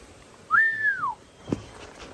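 A single clear whistle, one rising-then-falling tone lasting about half a second, close and fairly loud, followed by a brief knock, with no talking.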